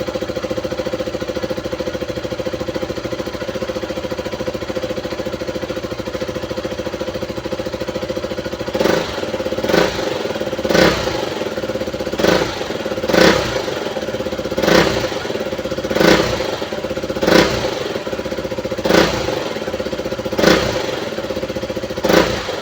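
A KTM Duke 200 motorcycle engine, just repaired after a fuel pump problem, idles steadily and then gets around ten short, regular throttle blips, each a quick rise and fall in engine pitch. No talking is heard.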